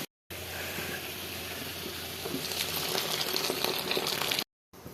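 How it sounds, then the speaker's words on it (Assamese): Hot water comes to a steady, close rolling boil in a pan of egg curry, a dense continuous bubbling that stops abruptly at the end. "ইয়াতে মই এতিয়া উতলি থকা পানীত কণী কিপিচ দি দিম"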